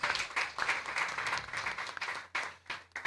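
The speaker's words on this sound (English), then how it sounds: "Clap for her." Audience clapping at a gathering, a modest group applauding in irregular bursts, fairly quiet and uneven, without talk over it.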